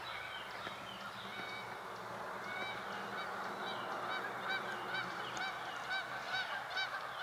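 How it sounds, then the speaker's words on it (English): Geese honk repeatedly over a shallow stretch of Lake Taneycomo below the Table Rock Lake dam, a chorus of moderately distant calls overlapping across a soft outdoor background hum. "Oh, maybe some geese."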